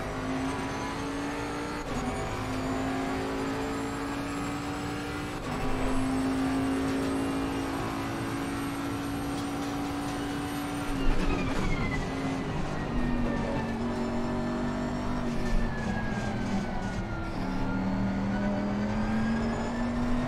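A GT3 race car engine at Suzuka in a racing game, droning loudly and continuously with its pitch rising and falling through gear changes and revs.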